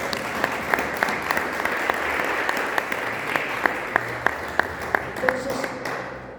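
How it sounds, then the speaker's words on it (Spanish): A church congregation claps together in a steady rhythmic beat, sharp and close, over a dense wash of crowd noise and voices. "Dele palmas al Dios del cielo."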